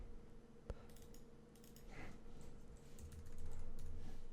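Typing on a computer keyboard, a quick run of soft key clicks close by, heard alone without talking.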